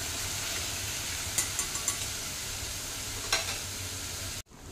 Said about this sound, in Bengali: এই মশলা থেকে যতক্ষণ না তেল ছেড়ে বেরোবে, আমি এটা করে ভালো করে কষিয়ে নেব।